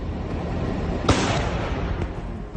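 A T-72 tank's cannon fired at close range, a single sharp blast that cuts through steady rumbling background noise, followed by a brief fading tail and a smaller pop.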